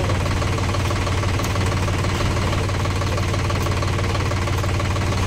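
A tractor engine, just pulled free of deep mud, runs steadily at close range with a loud, continuous knocking diesel rumble and no pauses throughout.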